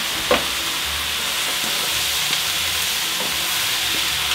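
Mushrooms fry in a pan with salt and pepper, giving off a steady loud sizzle and steamy hiss while occasional soft scrapes mark the spatula stirring and turning them.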